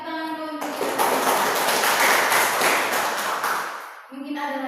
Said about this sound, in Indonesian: terima kasih dan tepuk tangan dulu untuk